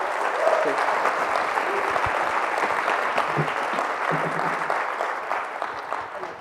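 Steady applause from an audience at a coaching talk, a continuous, even patter of many hands clapping that holds for several seconds before tapering slightly at the end, with faint murmurs underneath.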